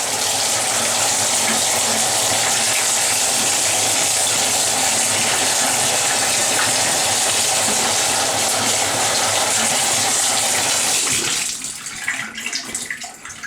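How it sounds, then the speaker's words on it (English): Old filter media from a Marineland C-360 aquarium canister filter rinsed under a steady gushing tap, loud and continuous water rush that cuts off near the end, leaving faint trickles. "I'm just going to go ahead and rinse them out and just put them back in."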